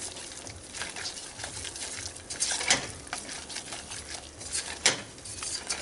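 A light roux of flour and butter being stirred in a pan, with a soft steady sizzle and scraping, stirring strokes close by, a few louder scrapes standing out.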